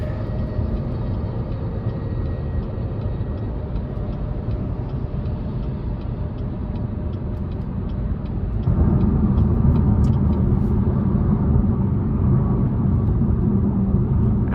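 Steady interior road noise inside a 2023 Chevrolet Malibu 2LT on a smooth drive, a continuous low rumble that grows slightly louder partway through, with no talking.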